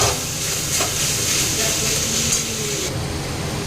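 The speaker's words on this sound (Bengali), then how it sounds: "তো এখানে হচ্ছে নোটে শাক ভাজা" Note greens (shak bhaja) frying in a pan, a steady close sizzle and hiss with faint stirring scrapes.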